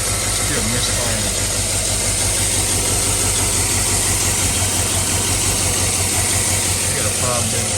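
A Chevy truck engine with an injector circuit fault idles with a misfire, giving a loud, constant, close rumble with uneven pulsing throughout.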